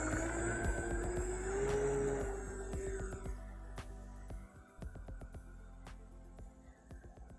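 An RC Air Tractor model airplane on floats, its engine droning steadily at a distance with a tone that shifts as it moves, alone without talk.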